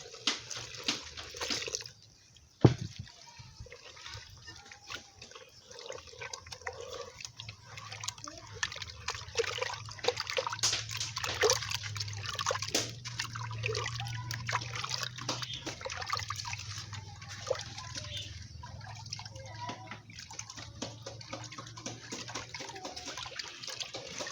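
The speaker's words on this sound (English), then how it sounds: "So this is my warm water, normal water, okay?" Warm water poured into a pot while preparing starch fufu at home, a steady splashing, trickling pour that runs for a long stretch after a brief knock near the start, fairly close and moderately loud.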